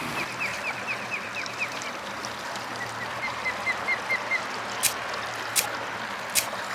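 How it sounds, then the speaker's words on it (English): Many birds on river pier pillars along the Rappahannock River call in short repeated bursts over a steady background rumble, with a few sharp clicks near the end. "there's about 1 million birds down on those pillars"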